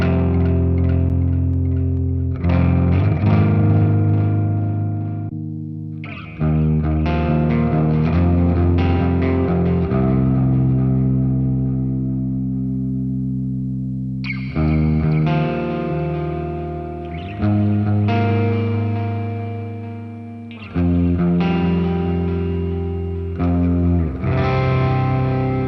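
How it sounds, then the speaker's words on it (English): An electric guitar played through a Valeton GP-5 multi-effects unit with ping-pong left-right delay and reverb, distorted sustained chords repeating in phrases with echoing tails, loud and up close, with no talking. "we're going to add a reverb to this so that the darting sound from left to right is smeared a little bit"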